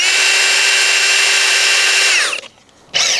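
An AEG regular cordless drill with a 5-amp battery spins at full speed, a loud steady high-pitched whine that winds down, falls silent briefly, then kicks back up at the end.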